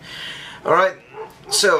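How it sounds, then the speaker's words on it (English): A pet dog barking indoors, two or three sharp yelps in quick succession over a quiet room, with a person speaking briefly at the start. "that's my dog barking at probably absolutely nothing because she just loves to bark"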